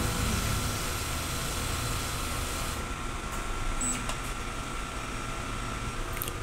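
A steady mechanical whirring hum of a DTF printer running its head cleaning cycle, with a few faint clicks partway through.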